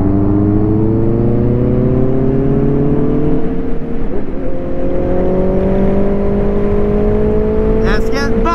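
A Honda CB650R motorcycle fitted with a V-Lane exhaust revs loudly and close, its engine note climbing and holding in a sustained whine, with a brief higher-pitched sound near the end.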